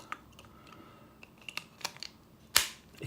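Butane burner fitted with a cheap disposable lighter igniter, several faint light clicks followed by one sharp, loud ignition click near the end, close up in quiet surroundings.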